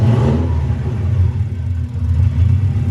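A Subaru car engine revs loudly and steadily nearby with a deep, throbbing exhaust rumble that holds for the whole stretch, during misfire troubleshooting of its coil packs.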